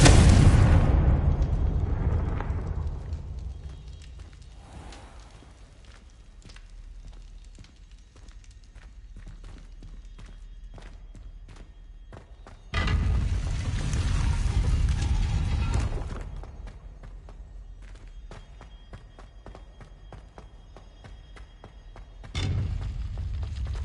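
A Confringo blasting spell detonates in Hogwarts Legacy with a loud, booming burst at the start. Two more heavy blasts follow later, one long and rumbling and one short, with a quieter game ambience between them.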